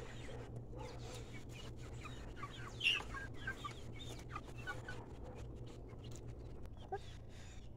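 Chickens cluck softly and steadily while pecking at pig food, a scattered chorus of short calls over a low hum, with a quiet voice talking now and then.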